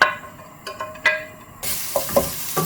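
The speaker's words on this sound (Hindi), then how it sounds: "अब ये जो ऑयल या थोड़ा सा उसको यखनी बची थी उसमें मैं अदरक लहसुन डाल के उसको फ्राई करूँगी" Ginger and garlic frying and being stirred in leftover oil and stock in a home kitchen pan, soft sizzling with light stirring clinks and scrapes, a louder burst of sizzle partway through, no talking.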